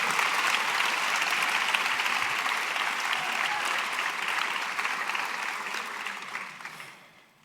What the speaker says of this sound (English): I think that's a round of applause for everyone I just named.